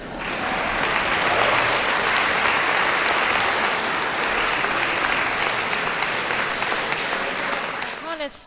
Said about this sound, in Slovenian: še en aplavz za razmerje nagrajencev in nagrajenk